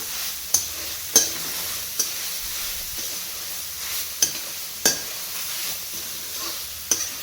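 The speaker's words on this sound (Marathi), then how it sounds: "थोडंसं तूप टाकून मी याला भाजून घेते" Carrot halwa roasting in ghee with jaggery in a pan, stirred with repeated sharp spatula scrapes over a steady soft sizzle, close and fairly quiet.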